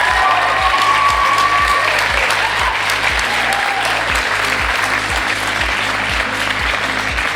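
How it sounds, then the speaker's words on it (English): An audience applauds a junior chef at the Shannon Region Junior Chef of the Year 2024 awards, with loud, steady clapping from a crowd that carries on unbroken for several seconds. "Give her a huge round of applause"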